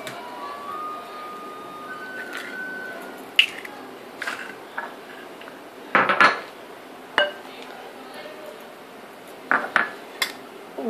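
A spoon or beater knocks and clinks against a bowl while eggs are beaten into cake batter, with irregular sharp taps over a faint background hiss and no voices.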